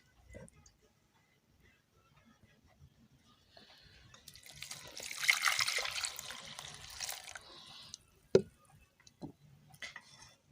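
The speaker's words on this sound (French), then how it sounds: "après avoir nettoyé, on va égoutter." Washed hibiscus (bissap) calyces drain as water runs and splashes for a few seconds, followed by scattered drips and a sharp tap, fairly faint and close.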